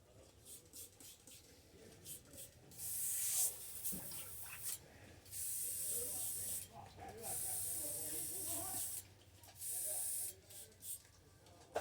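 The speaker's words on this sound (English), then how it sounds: "So, I'll clean out this airbrush real quick." An airbrush being sprayed out for cleaning while a crankbait fishing lure is custom painted: about five steady, loud bursts of hiss of varying length, separated by quieter gaps with low background noise.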